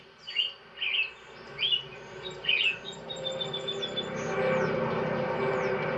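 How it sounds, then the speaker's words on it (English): Several short bird chirps ring out in quick succession, then more distant twittering continues over a rising outdoor hum. "You can hear the birds singing."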